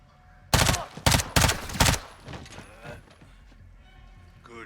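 Video game gunfire rings out in four loud, close bursts of rapid shots in the first two seconds, then fades into quieter in-game sounds with some talk in the background.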